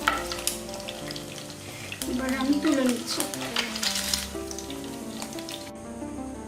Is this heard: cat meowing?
no